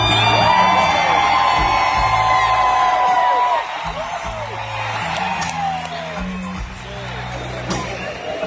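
Concert crowd at a show screaming and cheering during the band introductions, a loud sustained roar with whoops and shrieks layered over a band still playing underneath.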